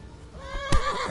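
A horse in the medieval video game Kingdom Come: Deliverance gives one loud, close neigh, its whinny rising and then falling over about a second, with no talking.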